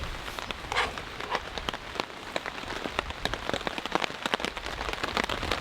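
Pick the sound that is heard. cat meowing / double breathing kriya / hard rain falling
hard rain falling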